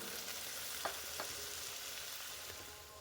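Masala frying and being stirred in a pan for liver curry, a steady soft sizzle with a couple of brief scraping stirs, close and alone with no talk.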